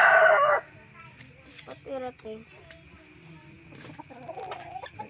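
A rooster crows loudly for a brief moment at the start, then falls away to quieter fowl sounds over a steady chirr of crickets, with a few words spoken.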